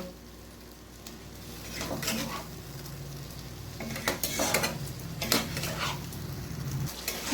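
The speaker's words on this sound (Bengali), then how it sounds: "এরপর আমি মশলাটাকে ভালোভাবে কষিয়ে নেব।" Masala for chicken korma, with a little water added, being stir-fried in a pan, a soft sizzle broken by clustered scraping and clinking strokes of a spoon against the pan, close with no talk.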